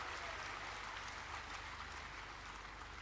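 Steady, fairly quiet applause from an audience at a talk in Faridabad fills the whole stretch, an even wash of clapping with no voices on top.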